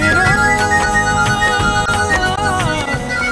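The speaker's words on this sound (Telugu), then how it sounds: "అక్క నీ ఫోన్ మోగుతుంది" A mobile phone ringtone plays loudly and continuously as a full, busy musical tune with steady beats, filling the moment alone with no one speaking.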